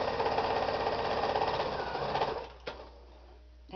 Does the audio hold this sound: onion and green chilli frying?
no